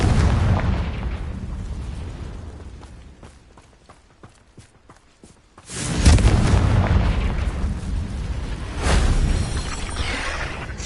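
Confringo blasting spell explosion in the video game Hogwarts Legacy: a loud burst of booming blasts after a quieter stretch of rapid popping, followed by a rumbling tail and a second heavy boom.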